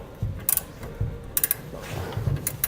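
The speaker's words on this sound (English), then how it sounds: "you can snug it down for a wrench a bit using a 3/4 inch wrench" A 3/4 inch wrench ratchets bolts snug on a gooseneck trailer hitch frame under a 2015 GMC Sierra 3500, giving several short bursts of quick metallic clicks separated by pauses, fairly close and quiet.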